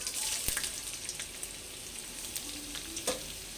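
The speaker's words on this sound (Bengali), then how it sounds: "ওই তেলে আর ঘিয়ে আমি আদা কুচি দিয়ে দিলাম" Chopped ginger sizzles steadily in hot oil and ghee for a sweet pulao, a soft, even frying crackle with a few sharp pops and the clink of stirring.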